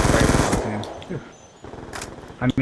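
Scorpion gun rapid fire in Black Ops 2, a few quick bursts of clattering automatic shots heard up close, mostly at the start and end, with someone talking over it.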